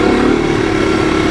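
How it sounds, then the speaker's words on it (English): A 1985 Honda ATC 250SX three-wheeler engine winding up while being ridden, a loud close buzzing drone held steady and continuous with no talk. "But you hear the way that engine sounds when she winds up?"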